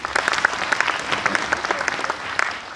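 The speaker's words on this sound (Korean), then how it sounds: "좋은 말씀 해주신 우리 준하경 시장님에게 다시 한번 큰 박수 부탁드리겠습니다" An audience at the 2020 Gyeongju citizens' forum at Gyeongju University claps for the mayor after his speech: dense, steady applause with sharp individual claps standing out, lasting the whole stretch without fading.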